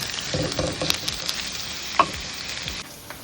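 Ivy gourd sautés in a pan with a continuous close, bright sizzle, plus a few light scrapes of stirring and no talking.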